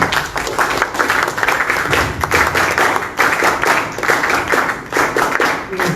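An audience claps steadily for several seconds, a dense, sustained round of applause filling the room.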